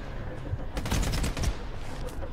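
Rapid burst of automatic gunfire in the video game Stalker 2: Heart of Chornobyl, a quick rattling string of shots over a constant low rumble, moderately loud with no talk.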